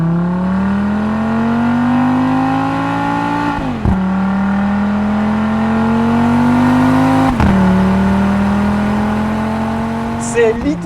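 A 2022 Audi RS3 accelerating hard, its engine note climbing steadily in pitch through two quick gear changes, loud and close throughout.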